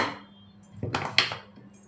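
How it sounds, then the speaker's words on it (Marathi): A metal pressure cooker lid is set onto the pot while Malvani-style chicken poptI is cooked, making a brief, faint clatter and clink of metal on metal in a quiet kitchen. "आता आपण कुकरचं झाकण लावूया."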